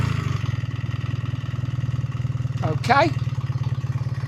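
A 2026 BMW R1300R motorcycle engine idles with a steady, low, pulsing thrum throughout, close by, with a short rise in revs near the end and a brief spoken word over it.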